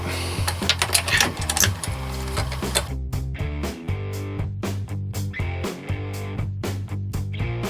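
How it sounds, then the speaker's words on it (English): Close, rapid mechanical clicking and ratcheting from a wrench working spark plugs out of a Suzuki RF 1100 motorcycle engine, in irregular bursts with brief pauses. "I'm just going to remove the spark plugs."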